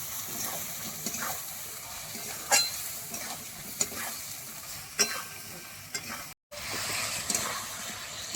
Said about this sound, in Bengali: দিয়ে দেবো জিরের গুঁড়ো, লঙ্কা গুঁড়ো আর একটু হলুদ গুঁড়ো দিয়ে ভালো করে মশলার সঙ্গে কচু আলু কষিয়ে নেব।